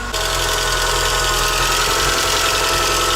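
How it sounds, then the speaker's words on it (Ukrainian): A car engine idles steadily nearby with a rapid, persistent ticking knock from worn hydraulic lifters layered over the low rumble. "гідрики стучать сильно, тому, скоріш за все, завтра приїду вже по нормальному їх заміню але працює двигун рівненько"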